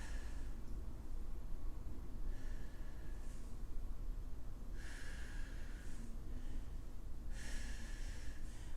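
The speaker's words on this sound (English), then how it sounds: "I'm breathing." Breathing during a core exercise workout with abdominals held tight, several sharp nasal exhales and snorting breaths spaced a few seconds apart over a low steady background, close to the microphone and without speech.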